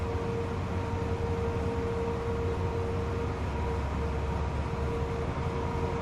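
Trains running in the Transport Fever video game, heard as a steady low rumble with a faint sustained tone, even in loudness and continuous throughout.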